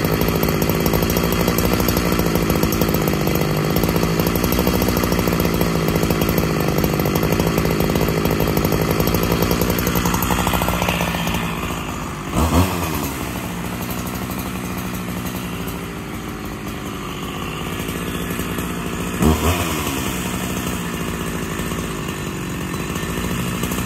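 A Husqvarna 365SP chainsaw runs loud and steady while cutting dry oak, its engine note dipping and surging as the bar bites into the wood, with a couple of brief revs near the end and no voices.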